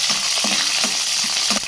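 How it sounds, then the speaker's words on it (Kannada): Green chillies frying in hot oil with mustard seeds, cumin and curry leaves, a dense continuous sizzle with light rhythmic stirring taps in the pan. "ಈಗ ಹಸಿಮೆಣಸಿಕಾಯಿ ಹಾಕ್ಕೊಳ್ತಾ ಇದ್ದೀನಿ."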